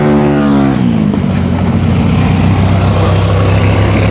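A big motorbike engine passes close by, its loud throaty note dropping in pitch as it goes, then settling into a steady, sustained rumble.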